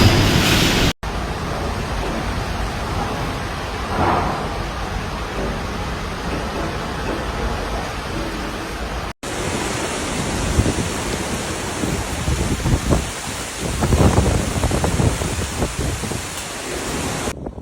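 Heavy typhoon rain from Typhoon Krathon in Taiwan, a dense, continuous roar of downpour with gusting noise that swells in the later part.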